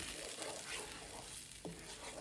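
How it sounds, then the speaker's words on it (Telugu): A paste of green chilli and fenugreek leaves frying in a pan, giving a soft, steady sizzle close by with a brief stirring scrape near the end and no talking. "ఇక పేస్ట్ వేసేసి కొంచెం ఇలా ఫ్రై చేసుకుంటే ఆ పచ్చి వాసన పోయిందాక బాగుంటుంది."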